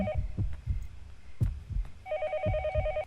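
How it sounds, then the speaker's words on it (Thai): A telephone rings in the horror video game Yomawari: Night Alone, with bursts of trilling ring at the start and again near the end, over a steady throbbing heartbeat-like pulse. "เสียงโทรศัพท์แม่งก็ ยังดังไม่หยุด"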